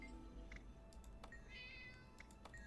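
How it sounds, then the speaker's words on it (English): A cat meows in Guild Wars 2 in a short, soft, high call with a few brief chirps, set over quiet game ambience with no talking. "Meow."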